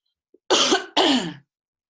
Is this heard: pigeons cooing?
no